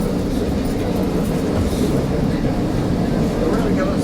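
A Caltrain commuter train runs between San Mateo and Belmont, heard from on board as a steady, loud low rumble and rattle, with brief clatter and no pauses.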